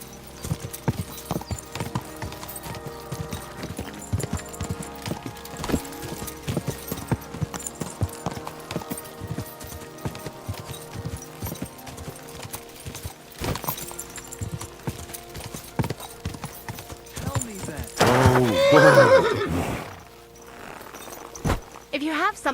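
A horse clip-clops in an irregular rhythm of hoofbeats, close and fairly loud, and then gives a strong whinny about two-thirds through before the steps resume.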